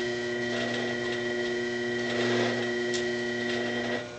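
APQS Millennium longarm quilting machine stitching a free-motion sampler quilt, giving a steady, close mechanical hum with a fast, even rhythmic chatter of the needle that runs continuously throughout.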